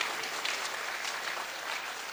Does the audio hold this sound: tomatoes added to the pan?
no